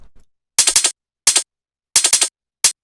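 Short bursts of rapid drum hits: a quick flam-like roll, then a single hit, another cluster of fast strikes, and a final hit, crisp and dry.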